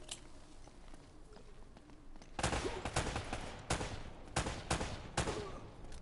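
Gunfire in the video game Uncharted: a quiet stretch gives way to rapid bursts of shots, several sharp volleys cracking in quick succession over the last few seconds.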